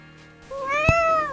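A house cat named King gives a single clear, close meow that rises and falls over about a second, loud and alone after a quiet start.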